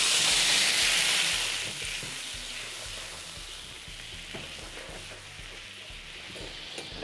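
Juices from a pre-cooked corn-fed chicken breast hit a hot frying pan to start a sauce, giving a loud, close, continuous sizzle that eases slightly after the first moments and carries on steadily with no talking.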